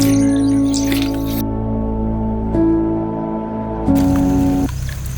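Water splashes and squelches onto wet red clay mud over a steady background hum, with a brief wetter slap near the end.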